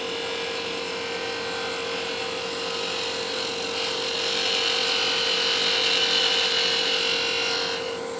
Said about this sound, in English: I'm going to go for a nice cleanup pass here with my smaller skew.